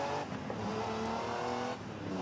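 A 1939 car in Forza Horizon 5 revs with a steady, loud engine drone and goes through a gear change, the pitch dipping briefly before it climbs again.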